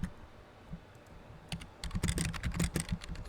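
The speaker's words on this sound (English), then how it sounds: "Sorry if you can hear the clicking." Typing on a computer keyboard indoors: a few faint clicks at first, then a dense burst of rapid, close key clatter for the last second and a half.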